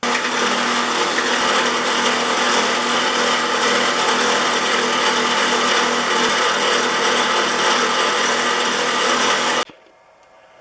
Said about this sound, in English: And now all of the small parts go over to my wire wheel.